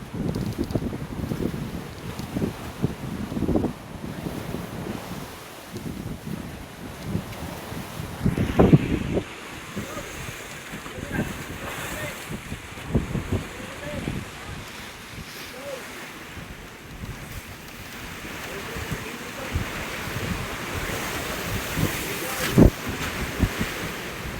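Strong wind and choppy, rough sea waves wash around a fishing mother boat, a steady loud roar of wind buffeting the microphone with splashing surf throughout.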